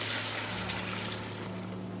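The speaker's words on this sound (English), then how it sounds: "This is the caramel sugar water we add to the" Caramel sugar water for braised chicken wings pours into a pan in a steady liquid rush, close and continuous for a couple of seconds, with a faint low hum underneath and no talking.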